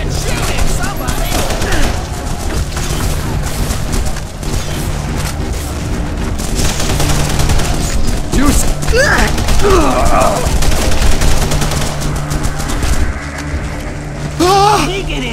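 Gunfire in The Punisher video game keeps up as a continuous stream of popping, booming shots and bursts. Excited voices shout over the fighting throughout.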